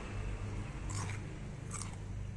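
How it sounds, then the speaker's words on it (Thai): Crisp crunching bites into fresh cucumber eaten with naem, northern Thai fermented pork, two crunchy bites close up over a steady low background hum. "เดี๋ยวต้องกินแหนมกับผักนะ แตงกวาค่ะ"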